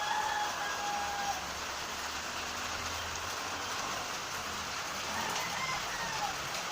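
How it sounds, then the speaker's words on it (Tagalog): April's first rain falls as a steady, even hiss that fills the whole stretch, with faint bird calls now and then and no talk. "First rain in April."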